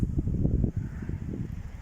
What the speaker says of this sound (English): as I said, it's really windy.